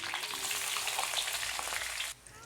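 Onion goes into hot oil with ginger and garlic for a Malaysian-style fish curry, a loud, dense, continuous sizzle that cuts off abruptly near the end, leaving a quiet hiss.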